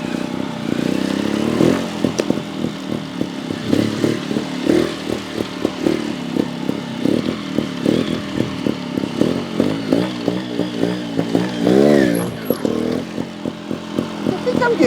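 A GasGas TXT 300 trials motorcycle working a backyard obstacle course, its engine chugging and blipping loudly up close with rapid throttle pulses and revs, while someone talks over it.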